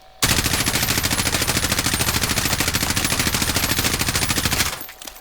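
Sustained full-auto bursts from an M4A1 rifle in the video game Call of Duty Warzone, a rapid, even rattle of shots that runs loud and unbroken for about four and a half seconds, then stops abruptly.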